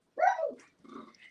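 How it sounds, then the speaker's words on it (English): A tiny, petite dog gives two short, high, whiny vocalizations close by, the first longer and louder, the second softer and broken, alone without talk. "Did you guys hear my little dog?"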